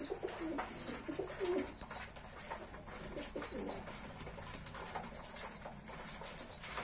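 Pigeons coo softly and repeatedly nearby, with brief wing flutters mixed into a steady outdoor background.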